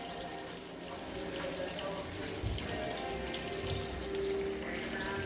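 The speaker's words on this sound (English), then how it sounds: "What I'm gonna do is I'm gonna wash out one of my bowls" A kitchen tap runs steadily as a bowl is washed out in the sink, a continuous close water rush with faint splashes and clinks.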